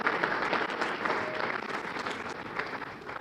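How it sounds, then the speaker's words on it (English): An audience at an inaugural ball claps steadily for the Prime Minister, a dense, even round of applause from a sizeable crowd that holds for several seconds without speech. "give the Prime Minister a round of applause for having this bold"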